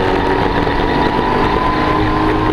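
Triumph GT6 with a slightly modified 2.5 litre straight six engine and LT77 gearbox, running at a steady, loud, continuous drone with no talk over it.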